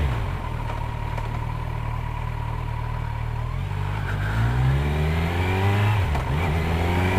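Kawasaki Z900 motorcycle with an Akrapovic exhaust on a ride, its engine droning steadily and then revving up loudly through rising pitch as it accelerates, close and continuous, with no talking.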